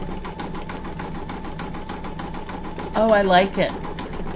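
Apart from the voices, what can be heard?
embroidery machine stitching gold thread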